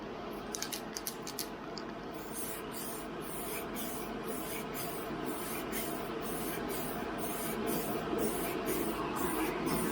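Aerosol spray paint hisses steadily and close by as valve cover logos are coated through a taped stencil mask, a continuous airy spray with faint clicks early on and no talking.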